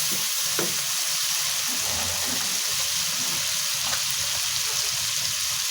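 Gravy of onion, garlic, ginger and tomato frying in a pan, a loud continuous sizzle and crackle with a few soft stirring scrapes, no voices.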